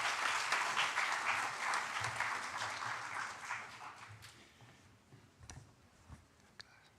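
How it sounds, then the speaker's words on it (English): Applause from an audience at a law faculty conference in Indonesia, loud at first and then thinning into scattered claps before fading away. "Let's all give a warm round of applause for John."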